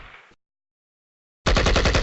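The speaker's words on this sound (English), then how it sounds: "I'm going to lay down some suppressing fire" Suppressing machine-gun fire in a war video game: a short faint noise, a second of silence, then a loud, close burst of rapid automatic shots.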